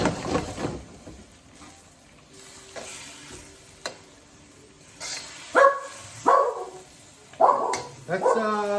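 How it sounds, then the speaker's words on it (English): A pet dog named Chico barks in a home kitchen while lomo saltado cooks, several sharp close barks in the second half over faint sizzling and stirring from the pan. "That's my dog Chico."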